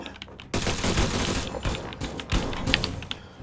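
Rapid bursts of video game gunfire crackle loudly and continuously, with sharp clustered shots over a dense background.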